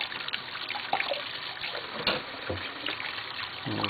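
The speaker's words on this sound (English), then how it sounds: "let me go ahead and rinse these off." Washed dishes rinsed under a running tap, water splashing and trickling continuously with a few clinks of dishware, close and moderately quiet, no talking.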